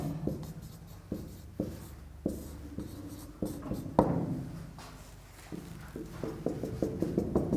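A pen writes on paper in close, quiet strokes. Short scratchy taps and scribbles come in irregular bursts, with brief pauses between them.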